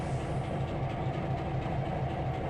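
Locomotive pulling a train in the Trainz 2022 railway simulation game, a steady low engine rumble with a faint rhythmic rail clatter, continuous and close with no talking.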